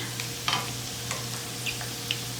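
Pork skin cracklings frying on a stove set to medium, a steady soft sizzle with scattered small pops and spatters, heard close with no one speaking.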